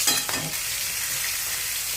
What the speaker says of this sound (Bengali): এক একটি ট্যাংরা মাছ নিয়ে নেওয়া হচ্ছে এবং গরম তেলে ছেড়ে দেওয়া হচ্ছে